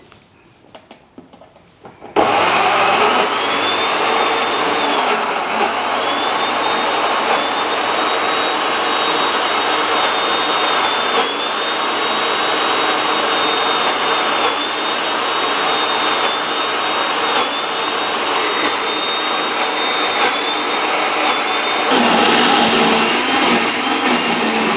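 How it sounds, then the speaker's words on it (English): After a quiet start, a blender whirs loudly and continuously for about twenty seconds, grinding sesame seeds and oil into tahini, a steady high-pitched motor whine close by that changes tone near the end. "we're just going to whiz it up until we get a smooth runny"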